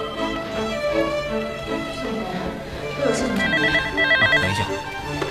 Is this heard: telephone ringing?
yes